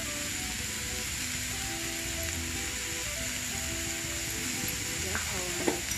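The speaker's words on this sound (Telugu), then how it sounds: "రెండు నిమిషాలు ఇలాగ ఫ్రై చేసుకోవాలి క్యారెట్ తురుముని నెయ్యిలో" Grated carrot fries in ghee with a steady, close hiss and sizzle, with faint stirring scrapes and a couple of light clinks near the end, and no talk.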